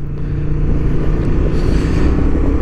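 A Honda XL750 Transalp motorcycle running at speed on a racing track, a loud, continuous engine roar with heavy wind rumble, steady throughout with no talking.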